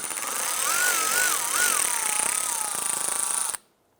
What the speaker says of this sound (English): We're going to use a T20 Torx bit to go ahead and remove this screw here